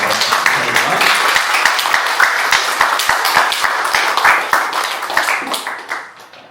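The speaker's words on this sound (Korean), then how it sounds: "우리 수고해주는 우리 두 분의 청년에게 박수 한번 주세요." Church congregation applauding for two young helpers, a dense spread of hand claps at moderate volume that tapers off at the end, with some talk mixed in.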